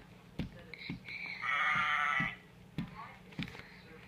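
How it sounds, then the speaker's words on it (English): A sheep in a farm-animals learning setting gives one loud, wavering bleat in the middle, close and clear, with soft thumps and quieter sounds before and after it. "Here's the sheep."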